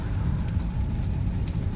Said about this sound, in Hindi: और बढ़िया बारिश हो रही है